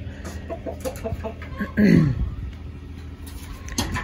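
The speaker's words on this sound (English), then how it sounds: "And we have 5 laying hens and 1 rooster." Hens cluck steadily close by, with one louder squawk rising above the flock of five laying hens and a rooster, and a voice talking faintly underneath.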